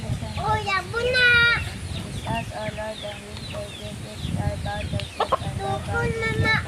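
Chickens cluck and squawk nearby in a rural home setting, irregular bursts of short calls with a brief crow-like cry, mixed with people talking during a family meal.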